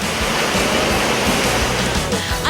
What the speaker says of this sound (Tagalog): hindi mawawala ang wave pool